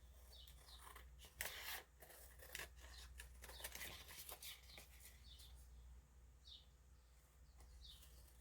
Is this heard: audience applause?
no